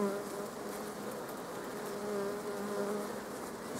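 Honeybees buzzing over hive frames of brood in early spring, a dense, steady, fairly soft hum of many wings close by, with no talking.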